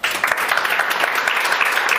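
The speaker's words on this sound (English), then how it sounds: "give our fantastic panel a grand applause" Audience applause for a panel at a UNDP and Generali event on climate resilience for small businesses, a dense, continuous wash of many hands clapping, loud and sustained throughout.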